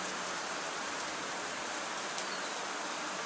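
Rain falling in the video game Black Book, a steady, even hiss of downpour filling the scene at moderate level with no voices.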